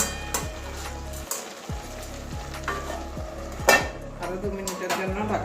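A pot of bottle gourd greens with potato, eggplant and bori sizzles on the stove while a metal lid clanks onto it, with several sharp metallic knocks over the steady frying hiss.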